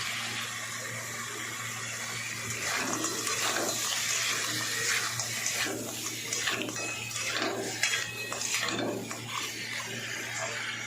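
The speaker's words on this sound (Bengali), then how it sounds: "আমি এবার কাঁকড়াগুলো ঢেলে দেবো।" Crabs are poured into a pan of fried spices, setting off a steady wet sizzle and splashing with clattering bursts, moderately close and without talk.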